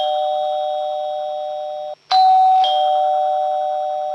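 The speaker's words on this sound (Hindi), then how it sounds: "और तभी डोरबेल बजी।" A doorbell chimes clearly in a two-tone ding-dong, loud and close, with each tone ringing out and slowly fading in an otherwise quiet room.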